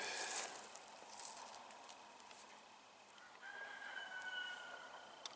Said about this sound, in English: Not far from where the roosters are living, apparently.